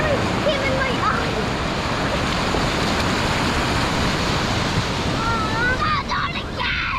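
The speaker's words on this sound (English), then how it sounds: "not much wind, but there's a lot of waves today" Ocean waves break on a beach on a day with little wind, giving a continuous loud wash of surf with a rumbling low end. Children's excited voices and squeals come through over the water noise.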